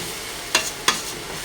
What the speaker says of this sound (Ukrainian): Не забуваємо помішувати нашу, наші овочі з грибками